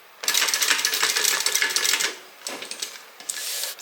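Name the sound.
sewing machine back stitching a hip bag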